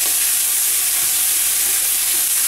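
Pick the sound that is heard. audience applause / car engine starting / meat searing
meat searing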